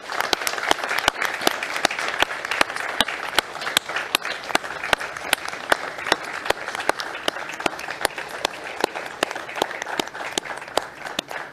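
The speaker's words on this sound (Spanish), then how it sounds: "brindemos un fuerte aplauso para todo el equipo médico en la primera línea de defensa" A crowd applauds steadily for the medical team at a ceremony commemorating the abolition of the army, a dense, continuous patter of many hands clapping that holds for the whole stretch.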